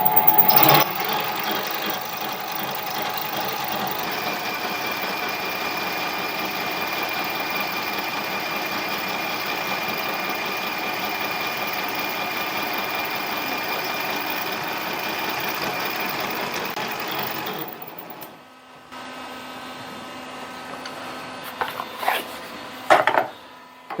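A mini lathe turning a part hums and whirs steadily at close range for about eighteen seconds. It then winds down to near silence, followed by a few sharp clicks and knocks.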